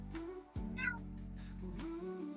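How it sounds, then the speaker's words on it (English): A cat meows a couple of times nearby, short plaintive calls over a low steady hum. "You might hear my cat meowing at me."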